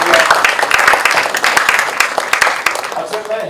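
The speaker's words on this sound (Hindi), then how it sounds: "जोरदार तालियां।" Applause from the audience at an Indian film trailer launch event for Durlabh Prasad Ki Dusri Shadi, a dense burst of clapping that carries on for a few seconds at steady loudness.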